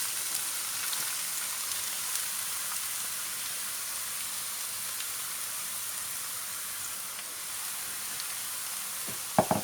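Carrots frying in hot oil for gajar ka halwa give off a steady, even sizzling hiss throughout, with a couple of sharp clicks near the end.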